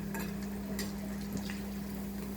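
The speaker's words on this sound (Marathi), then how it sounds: "आता अशा पद्धतीने सगळे मी तळून घेते." Bread rolls deep-fry in hot oil, giving a steady, close crackling sizzle with a low constant hum underneath and a few brief louder pops.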